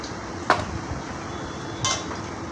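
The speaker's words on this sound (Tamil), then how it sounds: "மிக்ஸ் பண்ணிவிட்டு அந்த சால்ட்டும் சிக்கனும் அதில் மிக்ஸ் ஆகிற அளவுக்கு கிளறிக்கோங்க." Chicken tossed with rock salt in a pot gives two brief metallic clinks of a spoon against the vessel over a faint, quiet background.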